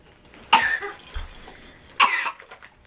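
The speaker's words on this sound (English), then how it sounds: "I thought you were done coughing." A person coughs twice indoors during a family gift opening, each a short sharp burst about a second and a half apart, fairly close and moderately loud, with quiet room noise between.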